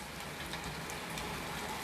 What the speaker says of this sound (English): It's raining soft now. Not drizzling, but raining soft.